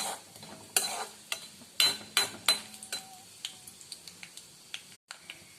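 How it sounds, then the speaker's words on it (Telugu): Peanuts are stirred and roasted in hot oil. Sharp clicking strokes of the spatula against the pan repeat in an uneven rhythm over a faint sizzle, growing softer and sparser toward the end. "శనగిత్తనాలు వేసాను. ఇప్పుడు ఇవి హీట్ అవుతున్నాయి. కొద్దిగా కలర్ వచ్చే వరకు కొద్దిగా వేయించుకోవాలా."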